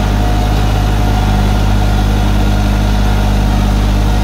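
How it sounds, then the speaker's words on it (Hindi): A New Holland 3630 Special Edition tractor pulling a 7-foot rotavator runs close by with a loud, steady, low diesel drone and throbbing vibration, unbroken throughout. "बहुत बढ़िया लग रहा भाई ट्रैक्टर चलता हुआ।"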